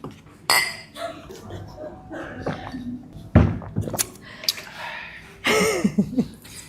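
Glasses clink together in a toast during a casual chat, a few bright close chimes and taps scattered among soft background voices and table sounds.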